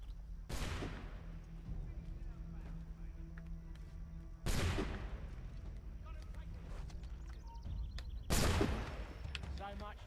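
Three heavy, booming gunshots in a video game, spaced about four seconds apart, each with a long rumbling decay over a low ambient hum.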